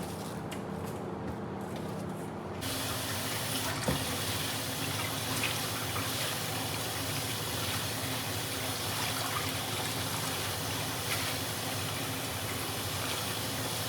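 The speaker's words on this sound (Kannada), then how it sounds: "ಇದಕ್ಕೆ ಹಾಕಿ ವಾಶ್ ಮಾಡೋಣ." Vegetables, cabbage among them, rinsed under a running tap: a steady broadband rush of water flows for the whole stretch, getting fuller and louder after a softer first few seconds, with a brief knock partway through.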